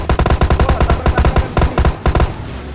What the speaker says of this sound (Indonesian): sudah mulai ada tembakan